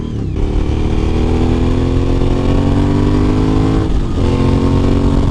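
A Suzuki V-Strom 1000 motorcycle with a 1000cc V-twin engine revs loudly and close by, holding a steady, rising drone with a brief dip near the end before climbing again.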